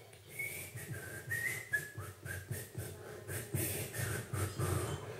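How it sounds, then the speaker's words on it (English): A man whistles a tune from a distance, faint thin melodic notes drifting over a low outdoor rumble for several seconds. "And the balloon man whistles far away."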